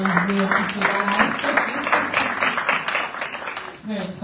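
A town hall meeting crowd keeps up steady applause, a dense wash of clapping heard alongside talking voices throughout.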